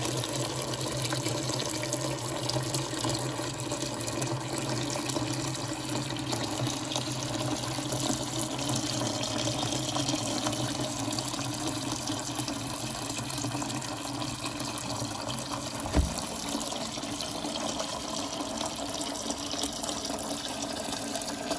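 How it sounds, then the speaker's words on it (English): Kangen alkaline water pours steadily from a tap into a bowl of sea moss, a continuous close rushing and splashing that stays even throughout, with a small knock near the end. "So we're gonna completely fill up the bowl."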